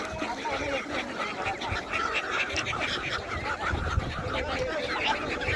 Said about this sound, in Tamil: கடல் பறவை